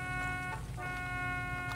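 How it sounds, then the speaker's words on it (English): A truck horn in the Far Cry 6 video game sounds as a steady, sustained electronic beeping tone with a slight pitch dip partway through, loud and close across the whole span. "Not the horn I was thinking for the truck."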